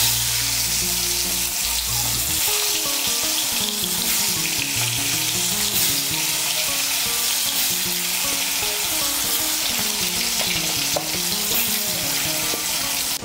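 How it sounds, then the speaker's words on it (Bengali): Teasel gourd pieces seasoned with salt and turmeric fry in mustard oil in a kadai, a dense, steady sizzle close up with occasional stirring, no voice. "তার জন্য কড়াইতে দিয়ে দিয়েছি সর্ষের তেল। এর মধ্যে আমি কাকরোলগুলো ভেজে নেব।"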